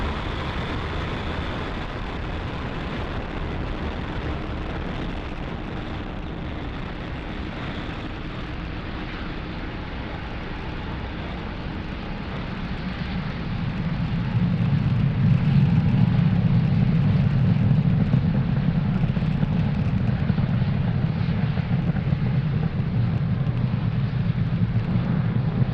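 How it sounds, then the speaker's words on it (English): A SpaceX Falcon 9 carrying Starlink satellites lifts off from Space Launch Complex 40, heard as a steady distant roar that swells into a heavier low rumble partway through and holds there without letting up. "liftoff of Falcon 9"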